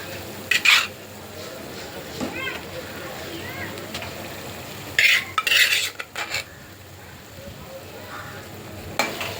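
Cleaned shark pieces stirred into sautéed onion and tomato in a pan, with a soft fry beneath a few sharp spoon scrapes and clinks in short bursts, alongside some talk.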